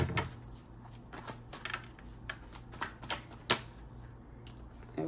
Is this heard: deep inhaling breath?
no